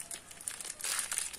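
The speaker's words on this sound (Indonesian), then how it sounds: "Saya langsung buka plastiknya." Thin plastic bag, opened for oyster mushroom growing, crinkling and rustling in a run of close, crisp bursts that get louder near the end.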